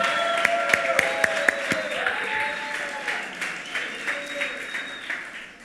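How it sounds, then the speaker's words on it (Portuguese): Church congregation at an anniversary celebration service bursts into sustained, loud applause, with a few sharp claps standing out early and a tonal musical backdrop running underneath throughout. "dê a melhor salva de palmas que você deve dar à palavra de"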